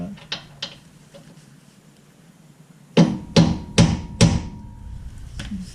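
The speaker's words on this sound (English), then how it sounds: "I am going to use the hammer technique again" A hammer strikes a wrench on a bolt in a dim space, four sharp metallic bangs in quick succession after a few faint earlier knocks, close and loud with no talk.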